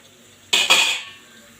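The lid of a cooking pot is lifted while cauliflower gravy cooks, producing two quick metallic clanks close by that ring briefly before fading.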